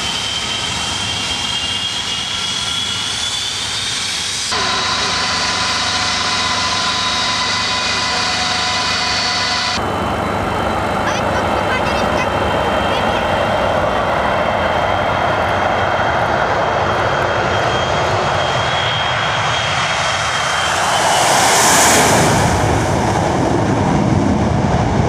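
An Ilyushin Il-86 widebody airliner with NK-86 jet engines runs with a loud, steady roar and whine that holds throughout and swells briefly near the end.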